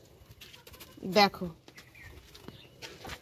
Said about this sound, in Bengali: ঘুঘু পাখি ঢুকে বসে রয়েছে